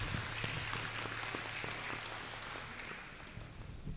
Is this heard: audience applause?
yes